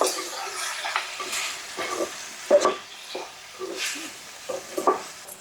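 Dry masala powder is stirred into chicken frying in a pan for a spicy hotel-style chicken fry: quiet, irregular scraping strokes over a faint sizzle, with no talking.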